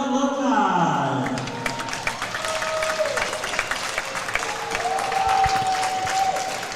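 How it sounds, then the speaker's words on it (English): A crowd at a college club hockey game claps and applauds steadily for returning alumni, a broad wash of clapping lasting throughout with an arena announcer's voice fading in the opening moments. "A big round of applause from our Razorback alumni."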